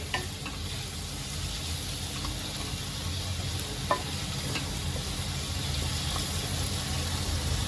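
Red pumpkin with spices is stirred in a pan over the stove, a soft steady sizzle with faint scraping touches and one sharp clink, quiet and close, with no voices.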